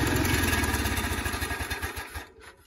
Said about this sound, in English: a little backfire there